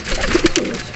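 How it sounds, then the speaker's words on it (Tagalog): A pigeon coos three soft, low pulses in quick succession, close and clear over a faint background hiss. "Ayun, may bitbit tayong ibon."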